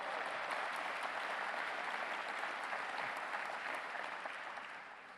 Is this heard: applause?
yes